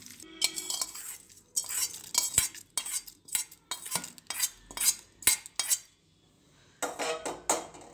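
A spoon stirs beetroot chutney in a metal pan, with a series of scraping, clinking strokes in irregular bursts, moderately close, and brief pauses between them.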